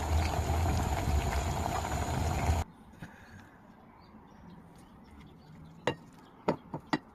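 Cabbage dish bubbling at a strong boil in a pot, a dense steady hiss for about two and a half seconds before cutting to a quiet kitchen with a few sharp clicks.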